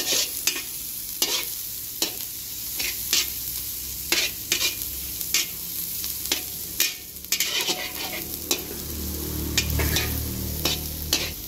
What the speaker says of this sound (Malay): Tumis sampai dia garing naik bau